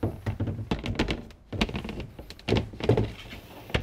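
The wooden companionway slide door of a Beneteau Oceanis 30.1 sailboat slides shut with a string of close wooden knocks, scrapes and thunks, ending in a firm closing clunk.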